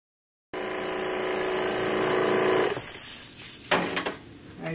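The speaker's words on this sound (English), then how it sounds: "Okay, so I'm going to turn on my compressor." An air compressor for spraying sink glaze starts abruptly and runs with a steady droning whir for a couple of seconds, then settles lower, followed by a few clattering knocks and handling noises close by.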